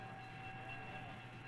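A passenger train rumbles along with a steady low roar and a thin sustained whine above it, continuous and fairly distant, with no voices.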